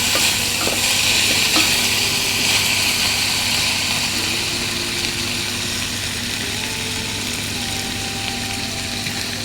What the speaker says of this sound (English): Let's fry this for 10 minutes on the high flame now